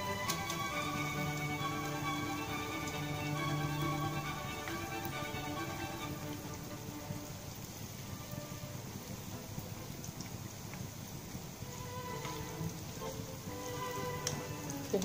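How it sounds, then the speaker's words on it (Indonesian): Steady crackling sizzle of chicken frying in hot oil, a dense continuous hiss with scattered pops, running throughout with no talking. "Gorengkan sampai dia garing ya."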